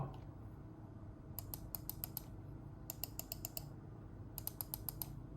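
Three bursts of rapid Microsoft Ocean Plastic mouse button clicks, each a run of about six quick, fairly soft clicks, separated by short pauses over low background noise.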